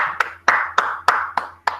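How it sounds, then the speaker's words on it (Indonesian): Six evenly spaced, sharp hand claps in a classroom for a student, close and fairly loud, each clap standing out crisply against a faint background hum. "beri tepuk tangan yuk temannya yuk"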